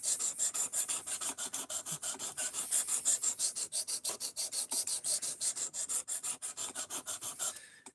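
A blade scrapes back and forth across a whetstone sharpener in quick, even strokes, a crisp rhythmic rasp repeating steadily for about eight seconds, close and moderately loud.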